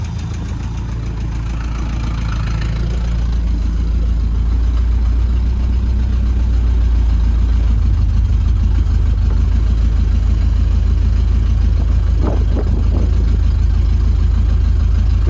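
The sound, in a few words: 1971 International truck engine running roughly, no coolant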